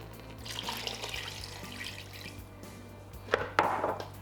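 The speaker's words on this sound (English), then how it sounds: "we're going to add a little bit of water too to help it cook" Water pours and splashes into a pot of vegetable green curry nearby, a soft stream with a few louder gurgling splashes near the end, no voices.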